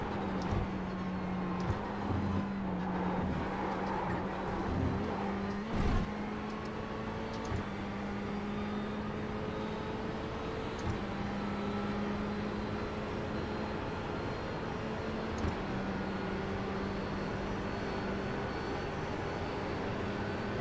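Ferrari 488 GTE race car in the iRacing game at the Daytona 24 Hours, its engine holding a steady drone with faint gear-shift breaks and other cars passing around it, loud and continuous throughout.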